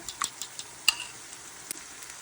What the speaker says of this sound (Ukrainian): І вилочкою так от їх добренько-добренько перемішую.